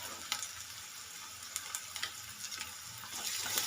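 Ginger garlic paste and curry leaves fry in oil for a Telugu spiny gourd curry, giving a soft, steady sizzle. Occasional light clicks and scrapes of stirring cut through it. The sound is fairly quiet and close, with no talking.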